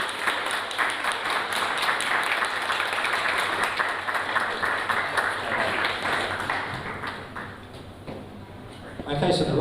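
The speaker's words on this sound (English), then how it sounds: "have a round of applause please for your new congratulations" An audience at a university student union election results night applauds a newly elected officer, a broad wash of clapping under loud announcer talk, fading toward the end before a fresh swell.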